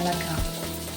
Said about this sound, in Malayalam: നമുക്ക് ഇളക്കാം.